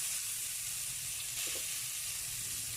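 Garlic and tomato frying in a little hot oil in a pan, a steady bright sizzle and hiss that runs unbroken, close up, with no voices.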